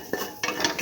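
A utensil scrapes and clacks around a pot while stirring a split mung bean and potato stew with turmeric, two quick close rounds of stirring with no talk.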